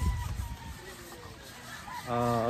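Gamefowl, chickens and roosters at a game farm in Tanauan, Batangas, giving a few soft clucks and then a louder, drawn-out call near the end, with faint talk behind them.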